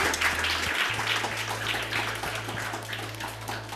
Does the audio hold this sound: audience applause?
yes